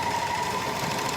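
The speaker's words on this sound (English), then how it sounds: "you can let your overlocker trim off a little bit of the seam allowance" An overlocker sewing machine runs continuously at speed, trimming the seam allowance as it stitches, with a steady close mechanical hum throughout and no pauses.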